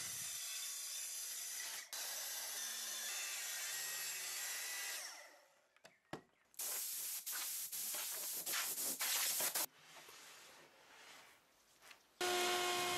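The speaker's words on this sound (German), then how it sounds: "Nun wird der Radius mit der Stichsäge abgefahren." A jigsaw cuts a curved radius into a wooden board, producing loud buzzing, rasping bursts of sawing broken by short pauses and a brief lull before the cutting resumes.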